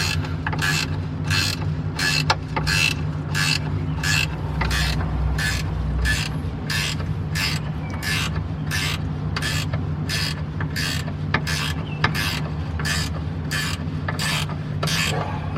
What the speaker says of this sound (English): Let's get the ratchet on the right way around.